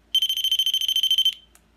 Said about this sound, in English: This is a REM proximity detector. It's got a loud beep when I turn it on.